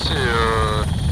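A Paris protection squadron helicopter flies nearby, its engine whine and rotor drone loud and steady for about a second, with a tone sliding slightly downward.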